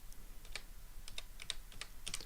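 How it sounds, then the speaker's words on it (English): Fingers type on a computer keyboard in a quick, uneven run of sharp, close clicks and taps over a quiet room, with no voices. "The whole time I was typing, it wasn't going in."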